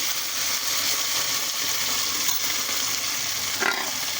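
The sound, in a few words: spinach puree poured and stirred in frying pan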